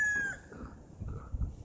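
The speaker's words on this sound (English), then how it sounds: "You will hear my chickens now and again." Outdoors in the woods, chickens give a faint high call at the start, then soft low clucking and muffled rustling, all at a distance.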